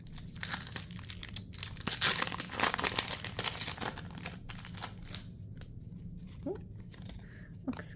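Foil wrappers of Pokemon Halloween 2023 booster packs crinkle and crackle nearby as packs are pulled out and handled, dense rustling bursts throughout with a brief faint vocal sound near the end.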